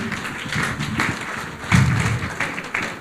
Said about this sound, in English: Another hand of applause for Mr.